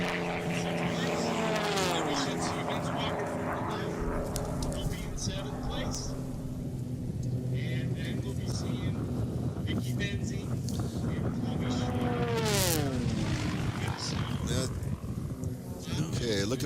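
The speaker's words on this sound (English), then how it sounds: "Okay, looking for a number on this airplane." Sport class racing planes, including a Super Glasair III, drone past on a cool-down lap at the 2018 Reno Air Races, with a steady engine roar, rising and falling passes and wind buffeting under an announcer's voice.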